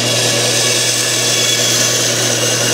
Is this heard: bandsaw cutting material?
yes